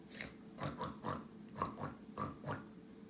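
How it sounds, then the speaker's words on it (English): Quiet, repeated grunts and snuffles from a pig and piglets in a farm stall, coming in a steady uneven series of short low bursts. "I hear a grunting sound coming from the stall beside the cows"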